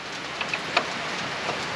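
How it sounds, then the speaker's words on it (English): Rain falling outdoors at a Woodmizer LT35 sawmill work site, a steady hiss of drops with a few sharper patters standing out, no voices. "we got some rain coming in next"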